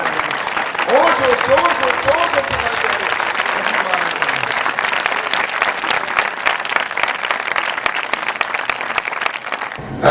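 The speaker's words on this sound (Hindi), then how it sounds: "आए जोर से ताली बजा के हम प्रभु यीशु मसीह को पिता पुत्र पवित्र आत्मा को" A church congregation at a large Christian meeting claps loudly and steadily in praise, sustained dense applause while a voice speaks over it near the beginning.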